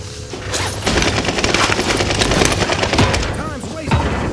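Rapid gunfire crackles through a video game shootout, dense bursts of shots running steadily with a few louder cracks near the end, mixed with game voices and busy battle noise.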